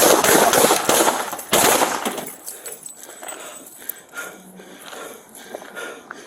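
Gunshots during a San Antonio police shooting, two loud sharp bursts at the start over noisy body-camera sound, followed by quieter rustling and movement.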